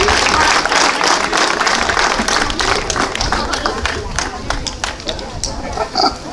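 An outdoor crowd at a park and street inauguration claps loudly and steadily, dense applause close by with voices and cheers under it, easing slightly toward the end.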